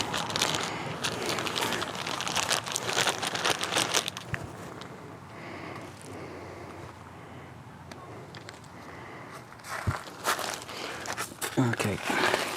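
Blue microfiber sponge applicator pads for car paint sealant or liquid wax are pushed back into a plastic bag, giving close crinkling and rustling bursts that come and go, with a voice talking in places.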